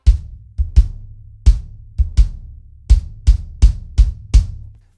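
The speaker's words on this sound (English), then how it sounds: "Let me get the blanket out and show you what it sounds without the blanket in there." Unmuffled kick drum with no blanket inside, struck in a loose pattern of about eleven hits, each a boomy low thump with a ringing tail, close and alone with no voices.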